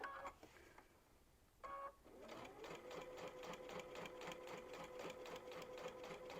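Sewing machine stitching a potholder ornament, a couple of brief starts and then a steady rapid run of needle strokes, close and clear and heard alone.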